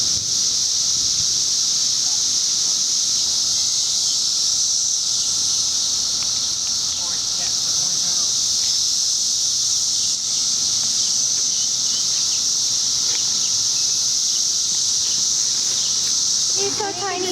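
Cicadas drone loudly and without a break, a dense high-pitched buzz that fills the outdoor scene, with faint voices and rustling underneath.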